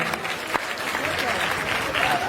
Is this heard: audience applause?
yes